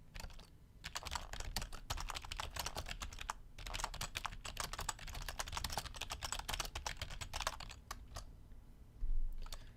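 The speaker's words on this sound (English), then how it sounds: "I suck at typing" Fast, uneven typing on a computer keyboard rattles on in dense bursts of key clicks with short pauses, close and clear in a quiet room.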